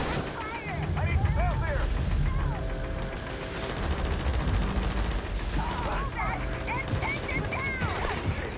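Gunfire in the game Starfield, a steady barrage of rapid shots and impacts layered over game music and effects, with a player talking over the action throughout.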